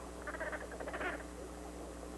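A fat, hideous toad croaking in a fairy tale sound effect, a short faint burst of rapid, rattling croaks that fades quickly over a low steady background.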